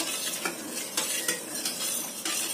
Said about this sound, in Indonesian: Kita nyalakan apinya sambil kita terus aduk.